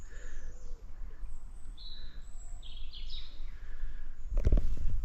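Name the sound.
wild birds singing by Rutland Water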